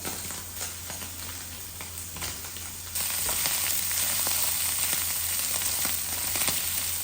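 Garlic and spinach frying in a pan, a steady close crackling sizzle that jumps louder and brighter partway through, continuous with no talk.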